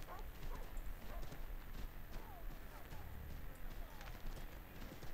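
Steady clip-clop of horse hooves trotting along at a brisk, even rhythm, fairly close, with faint background noise, in the video game Assassin's Creed 3.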